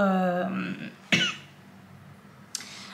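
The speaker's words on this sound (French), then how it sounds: "Je vais tousser encore, je suis désolée si je tousse dans cette vidéo encore." A woman coughs once, a sharp close burst, with a fainter second cough about a second later, following a stretch of her speaking.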